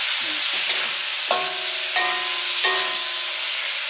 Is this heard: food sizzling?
yes